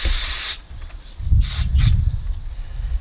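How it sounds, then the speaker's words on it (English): Brake cleaner spraying onto trailer wheel bearings in a loud half-second hiss, followed by shorter hissing bursts and a low rumble of handling nearby. "bearings are going to get cleaned with brake cleaner."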